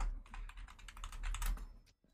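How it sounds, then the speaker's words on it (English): Typing on a computer keyboard, close up: a rapid, steady flurry of key clicks, fairly quiet, stopping abruptly near the end, with no speech. "Oh, I was typing it out."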